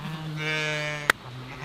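Sheep bleats in a single drawn-out, wavering cry with clear harmonics, close and fairly loud, ending in a brief sharp knock.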